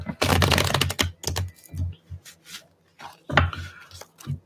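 Tarot cards being shuffled during a psychic reading, giving bursts of crisp riffling and tapping with short pauses between them, close and fairly loud.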